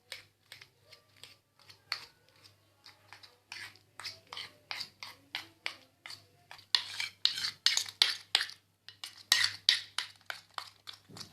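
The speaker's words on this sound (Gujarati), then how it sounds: "હવે આપણે આને ત્યાં સુધી મિક્સ કરવાનું જ્યાં સુધી એના બધા ગાંઠાઓ નીકળી જાય." Homemade henna paste stirred continuously to work out lumps, giving a steady run of short scraping and clinking strokes from the mixing tool against the bowl, close and fairly quiet, with a low steady hum underneath.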